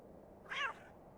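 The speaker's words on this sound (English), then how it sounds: "The cat got in a fight with the thing." A single short cat meow in the video game Hob's Barrow, faint and brief over a low background hum.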